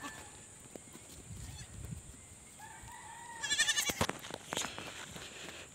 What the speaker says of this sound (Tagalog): Ito yung mga kambing natin.